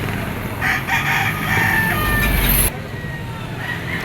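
A white hatch gamefowl rooster with blue legs crows once, loud and near, its call cutting off abruptly, against a noisy outdoor market background with faint voices.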